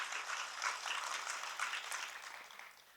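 Applause from a gathered audience at a spiritual gathering, a dense patter of many hands clapping at moderate distance for about three seconds, then tapering off.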